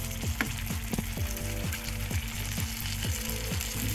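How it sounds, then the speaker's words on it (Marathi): Stuffed green chillies fry in a covered pan, a steady close sizzle running throughout, with faint scraping sounds as they are turned. No one speaks. "एका साईडने भाजून झालेल्या आहे, आता दुसऱ्या साईडने आपण भाजून घेऊया।"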